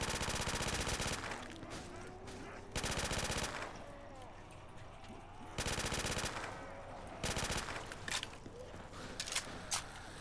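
Bursts of rapid gunfire from a shotgun in a custom Call of Duty zombies map, Willow Street, loud and close, arriving in several separate volleys with quieter game ambience between them.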